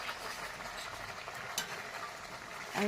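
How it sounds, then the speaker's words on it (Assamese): Duck frying with pumpkin in a pan over high heat, a steady hissing sizzle with a faint stirring scrape and a brief clatter at the end, quiet and close, without speech. "কোমোৰা দি পেলাই এতিয়া ভাজিছোঁ আৰু পূৰা এনেকৈ ভাজি একদম ভাল জুইত"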